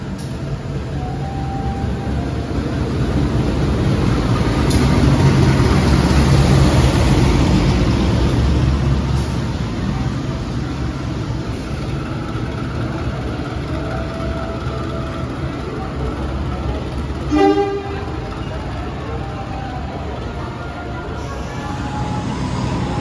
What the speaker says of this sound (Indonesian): Rangkaian kereta api Bengawan masuk jalur 2 stasiun Lempuyangan